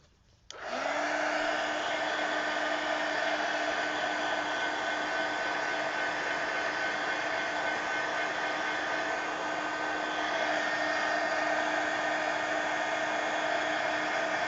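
After a brief click, a hair dryer blows continuously and loudly for about fourteen seconds at close range as it dries a painted art journal page, with a steady whine that barely changes.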